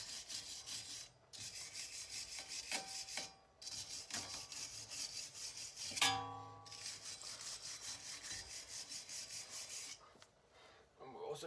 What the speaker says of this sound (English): Quick rub down to make sure everything is nice and flat.